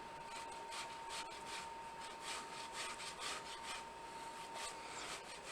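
Hot boiled potato pressed down a metal box grater on a cutting board, a steady run of soft rhythmic rasping strokes, close and moderately quiet with no talking.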